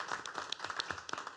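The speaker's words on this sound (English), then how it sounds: "I'd like for all of us to congratulate him with a round of applause" Applause from a small crowd at a county commissioners meeting, a steady patter of clapping hands lasting the whole moment, moderately near with no talk over it.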